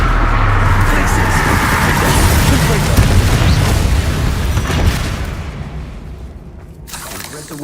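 A Glacius ice spell is cast in Hogwarts Legacy during a spider fight, a dense, loud rumbling blast that swells then fades over several seconds, ending in a quieter tail.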